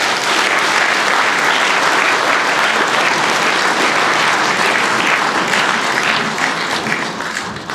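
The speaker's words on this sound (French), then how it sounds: "Je vous remercie d'applaudir Franck Buller." Sustained audience applause at a French talk about the Gilets Jaunes movement, steady and loud throughout, tapering slightly at the end, with no talking over it.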